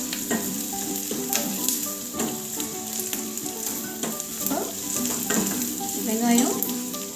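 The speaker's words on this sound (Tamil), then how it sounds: "வெங்காயம் ரொம்ப வதங்க தேவையில்லை, ஓரளவுக்கு செவந்தாடே போதும்" Onions and curry leaves sauté in oil in a pan for potato gravy, a close, steady sizzle broken by repeated spatula scrapes and stirring clatter throughout.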